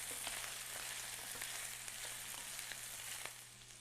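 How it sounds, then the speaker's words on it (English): Onions frying and slowly caramelizing in a pan for mujadara give a steady, close sizzle with small crackling pops throughout, easing slightly at the end, with no talking. "the onions are cooking beautifully. You can see they're starting to caramelize a little bit"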